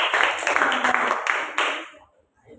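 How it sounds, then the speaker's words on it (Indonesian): Classroom applause from students, a dense burst of hand clapping that holds steady for about a second and a half, then quickly dies away into near silence. "tepuk tangan dulu buat kita semua"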